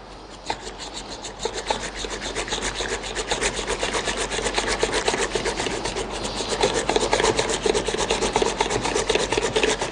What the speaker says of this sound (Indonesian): Lalu kita kocok pakai mixer, hand mixer.